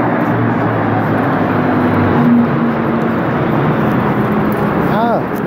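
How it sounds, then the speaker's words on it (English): A Second World War propeller airplane drones steadily overhead, a low rumbling engine tone that holds throughout, with wind noise and a faint pitch sweep near the end. "Must be a Second World War airplane."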